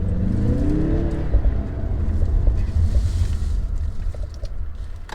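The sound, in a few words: Mazda CX-30 turbo boost while driving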